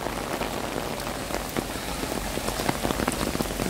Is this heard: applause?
no